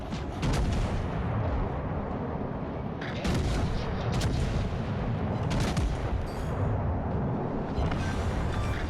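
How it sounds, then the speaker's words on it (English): HMS Agincourt's secondary battery guns blast away in a naval warfare game, a rapid string of heavy booms and overlapping volleys rolling almost continuously for several seconds, loud and close with no talk. "Look at our secondaries go. Look at them. They're firing already."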